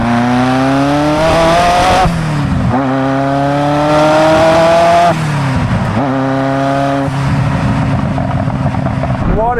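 1991 Ferrari F40 engine revving hard through repeated climbs, each pull rising in pitch before dropping back, loud and close with a raspy howl and some talk between pulls.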